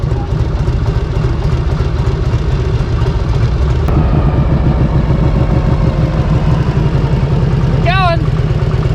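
The engine of a 1962 Harley-Davidson Panhead motorcycle runs with a steady, loud rumbling idle, a brief voice cutting in near the end.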